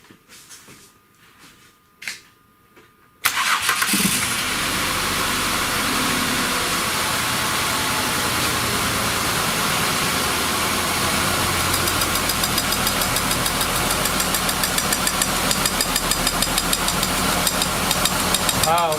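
A 2005 Ford Escape with a misfiring number 4 coil cranks and starts after a few seconds of quiet handling noises. It then settles into a loud, steady idle with a faint rhythmic ticking running through it.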